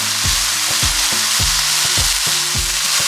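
Garlic and onions cooking in a pan for copycat P.F. Chang's chicken lettuce wraps, a loud, dense sizzle running throughout with regular rhythmic scrapes or taps about every quarter second, heard up close and without talk.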